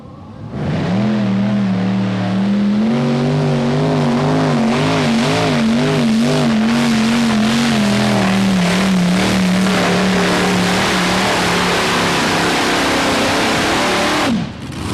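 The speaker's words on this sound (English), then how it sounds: "multi-engine tractors produce thousands of horsepower with relative ease" Multi-engine modified pulling tractors at a tractor pull, engines roaring at high revs in a loud, sustained drone that wavers and climbs before cutting off near the end.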